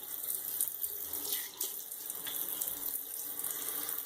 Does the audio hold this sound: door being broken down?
no